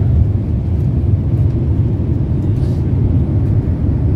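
Airliner cabin during the approach for landing on an early-morning flight, a steady loud low engine roar and rushing air that stays constant throughout with no voices.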